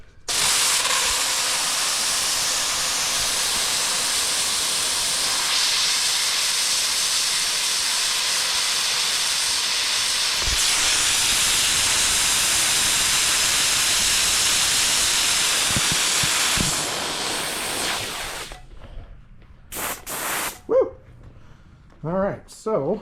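A pressurized steam cleaner gives off a loud, steady hiss for about eighteen seconds, then cuts off into short puffs and bursts, with a dog heard toward the end.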